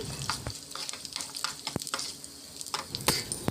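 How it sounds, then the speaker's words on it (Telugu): Garlic, chana dal, urad dal, cumin and mustard seeds frying in hot oil, a soft close crackle and sizzle with small pops and a few sharp spatula clicks. "ఇందులోనే శనగపప్పు మినపప్పు జీలకర్ర ఆవాలు కూడా వేసి బాగా వేగనివ్వాలండి"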